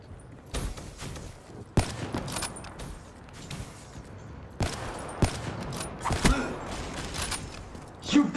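Gunshots ring out as scattered, sharp single cracks at irregular intervals over faint background noise, some in quick pairs and others spaced a second or more apart, each moderately loud and close.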